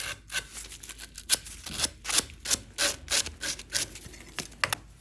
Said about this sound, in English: I'm just going to take a little bit of sandpaper and just sand the burr off the edge.